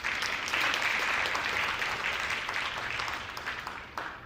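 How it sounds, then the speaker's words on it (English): Applause from an audience at a Black History Month celebration, a fairly faint, steady wash of many hands clapping that carries on evenly and thins out toward the end, with no voices. "give yourself a round of applause just for being here today"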